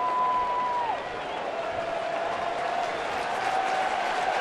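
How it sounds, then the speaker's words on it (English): A packed baseball stadium crowd at an NLDS playoff game roars steadily, a dense continuous wash of applause and cheering heard from amid the stands, with a faint tone gliding briefly in the background. "the crowd, as they do every time there are two strikes, begin their rhythmic chant and wave their white towels"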